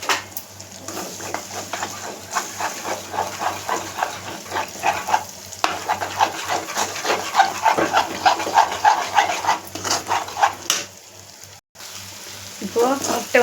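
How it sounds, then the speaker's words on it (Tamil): Four beaten eggs go into a hot pan and get mixed, producing a soft sizzle under brisk, rhythmic scraping and stirring that continues nearly throughout. "இந்த ஸ்டேஜில் முட்டையை உடச்சி ஊற்றிக்கலாம்."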